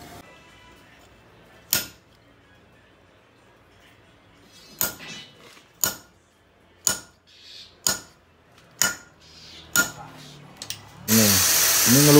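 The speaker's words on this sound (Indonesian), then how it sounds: "Ini ngelubangin ganjonya tidak pakai bor, di betel." Sharp metallic strikes ring out one by one, spaced about a second apart, as a chisel is hammered through a keris blade's ganja to cut a hole without a drill, ending in a burst of harsh noise.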